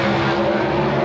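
Drag racing cars, including a Ford, launching side by side off the starting line at the 1984 NHRA US Nationals, a loud, dense, unbroken engine roar filling the whole moment.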